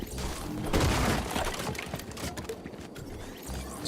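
Gunfire in a Fortnite team fight at a North American regional tournament, dense overlapping shots and impacts from several players, loud and continuous with no voices in the mix.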